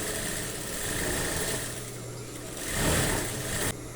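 Sewing machine running a wide straight stitch along a lingerie panty seam for gathering, a steady mechanical hum with a low rhythmic drone, swelling louder near the end before dropping off.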